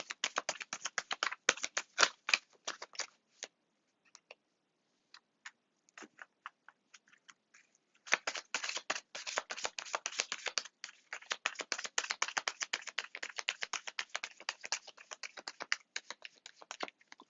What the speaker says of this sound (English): I don't really like to look at the deck when I'm shuffling through the cards.